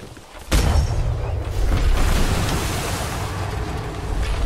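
Ship cannons fire during a naval fight in the game Atlas: a heavy boom opens, then a deep rolling roar with further blasts, loud and close over rushing sea-like noise.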